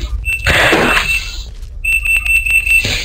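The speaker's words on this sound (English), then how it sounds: "No, that's my washer." A home washing machine sounds its alarm signal, a loud string of high electronic beeps in two bursts over steady background noise.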